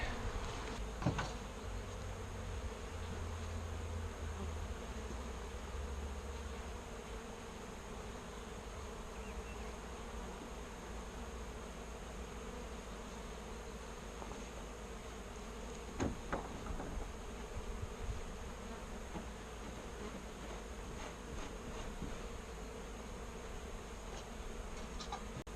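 Honey bees from a newly split package buzz steadily in a hive, a dense, continuous drone close by with occasional louder passes, no one talking.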